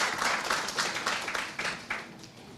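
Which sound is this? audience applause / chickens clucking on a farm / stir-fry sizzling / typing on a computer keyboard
audience applause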